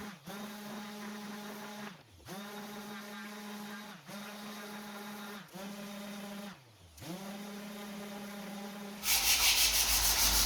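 Old furniture being sanded: a power sander drones steadily and close, its pitch sagging briefly every couple of seconds as pressure shifts, then a harsher, rougher grinding burst takes over at the end.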